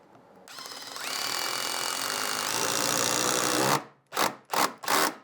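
A power drill drives a structural screw into a 2x wooden board with a long, steady grinding whir, then three short bursts as the screw is seated, close and loud.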